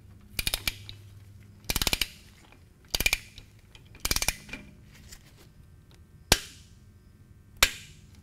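A torque wrench tightening a motorcycle transmission plug, heard as four close bursts of rapid ratcheting clicks followed by two single sharp clicks, all against a quiet background.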